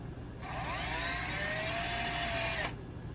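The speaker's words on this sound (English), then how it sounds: "I have secured both of them inside of my drill" An electric drill spins black and white wires held in its chuck to braid them, giving a single high, steady whine that ramps up, holds for about two seconds, then cuts off cleanly, close and alone.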